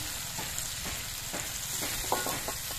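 Fried and ground onion-garlic paste goes into masala already releasing its oil, making a low continuous sizzle with intermittent spoon scrapes and stirring knocks, close but fairly quiet, with no voices.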